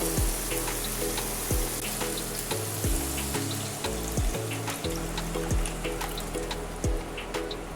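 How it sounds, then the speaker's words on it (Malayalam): Tamarind water squeezed into a sizzling pan of small sardine pepper curry. A steady, dense frying hiss runs throughout, with trickling liquid and faint low tones in the background. "ഇനി കുറച്ച് പുളിവെള്ളം പിഴിയുക."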